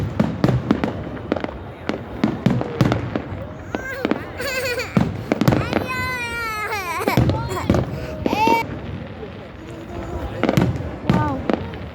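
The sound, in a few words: New Year fireworks exploding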